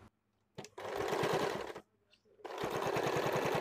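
A sewing machine stitching a blouse runs in two bursts of rapid, even needle chatter, each over a second long, separated by short pauses with faint handling sounds.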